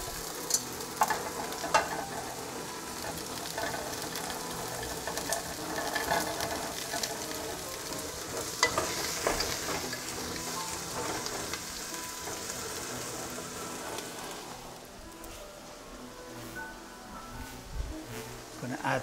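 Cauliflower browning in a hot pan for a stew, a steady close sizzle and crackle running throughout with occasional stirring scrapes, brief louder pops, no talking over it.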